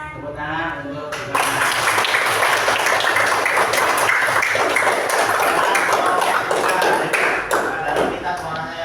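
A classroom group of students claps in loud, dense applause that starts abruptly after a brief stretch of speech and continues steadily to the end, with a few faint voices underneath.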